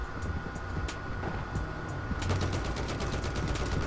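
Mortar fire in a shooter game, a dense rumbling barrage of rapid, repeated thuds and crackles that grows busier toward the end, no voices.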